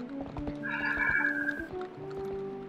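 Horse riding in Zelda Twilight Princess HD, with steady clip-clop hoofbeats and a neigh over soft tonal game music, moderately loud with no talk.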